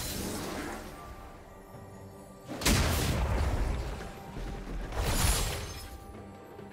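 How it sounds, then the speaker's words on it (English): A turret being destroyed in a League of Legends match, two heavy crashing booms a few seconds apart rising over a quieter game background, no voices. "Blue team's turret has been destroyed."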